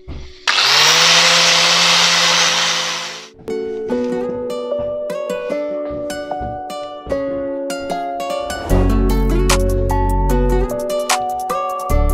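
A power drill bores into a 50cc scooter exhaust pipe held without a vise, starting with a loud steady whine, then continuing in changing tones with a deep rumble joining near the end.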